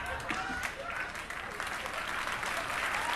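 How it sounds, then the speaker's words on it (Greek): Audience applause in a theater performance, a sustained dense clapping wash with a slight crowd murmur mixed in, moderately distant. "Χειροκρότημα."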